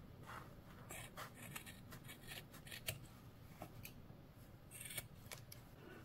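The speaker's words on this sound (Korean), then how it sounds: "이렇게 연결된 부위를 쭉쭉 가위로 자를게요" Scissors snip through the joined yarn of a hand-crocheted winter hat in a quick series of close, crisp cuts, with a soft rubbing of the yarn between them.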